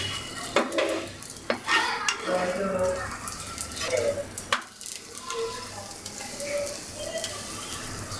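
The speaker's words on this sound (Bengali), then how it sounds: "একটু করে চাপ দিয়ে প্যাচুলাতে চাপ দিয়ে প্রেস করে পরোটাটা ভাজতে হবে" Paratha frying in a pan and pressed down with a spatula, with soft sizzling under repeated scraping and clinking of the metal spatula against the pan, while a voice talks intermittently over it.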